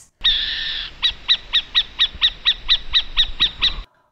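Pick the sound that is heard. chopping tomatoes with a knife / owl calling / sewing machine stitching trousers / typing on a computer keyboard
owl calling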